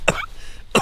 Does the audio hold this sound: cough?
yes